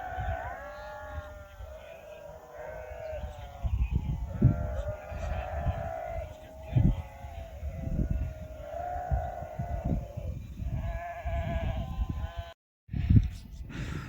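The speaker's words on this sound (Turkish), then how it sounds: "Şöyle arkada koyunlar var." A flock of sheep bleats repeatedly on a hillside pasture, several animals calling at once and overlapping at moderate distance, with soft wind and outdoor ambience throughout.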